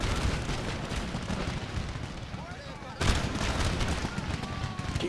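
Massed musket and cannon fire from a Napoleonic-era battle in the strategy game Empire: Total War, with dense overlapping volleys and booms rumbling continuously, a heavy blast near the midpoint, and a voice barely audible beneath the din.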